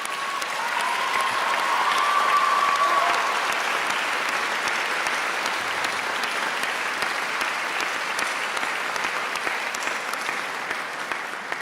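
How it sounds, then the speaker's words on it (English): Sustained, steady applause from a concert hall audience at the finals of the 2025 Van Cliburn International Piano Competition, honoring the medalist pianists; broad and dense throughout, with a brief tonal note early on. "I feel like the applause could have gone on for an eternity."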